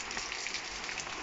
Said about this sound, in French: il pleut ici dans le Finistère